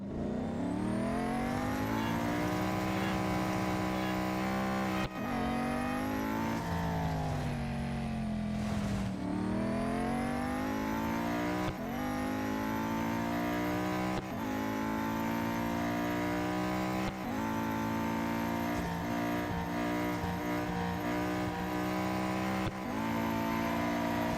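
A Venom F5 race car engine in the racing game Real Racing 3 screams at high revs through repeated gear changes, each upshift dropping the pitch before it climbs again, loud and steady throughout with no talk.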